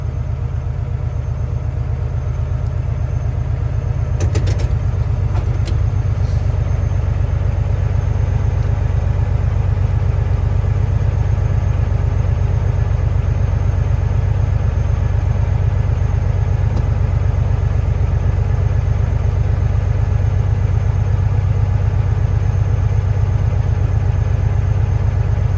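Diesel engine of a manual CDL Class A truck held at a steady raised rev of about 1,000 RPM, a loud, continuous low drone with a few brief clicks early on, no voices.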